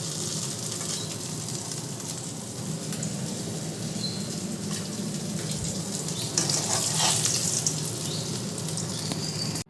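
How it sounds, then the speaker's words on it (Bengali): Fish frying in hot oil in a pan makes a dense, even sizzle up close, swelling a little louder near the end, with no one speaking. "তিনটে মাছ হোক, তারপরে আবার বাকি মাছগুলো ভেজে নেব।"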